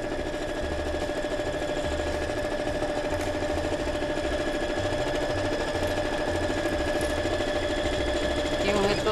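A sewing machine stitching fabric for a children's pencil case and bag holder, finishing with a backstitch, a steady rapid mechanical whirr running close and unbroken throughout.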